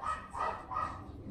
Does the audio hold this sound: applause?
no